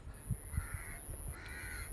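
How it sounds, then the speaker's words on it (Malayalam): Harsh cawing calls from crows repeat several times over a steady background hiss, moderately close, with no voices. "കിളികളുടെയും ഒക്കെ സൗണ്ട് കേൾക്കുന്നുണ്ട്"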